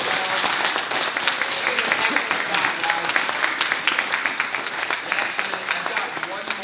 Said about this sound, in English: Can we get a round of applause for the team?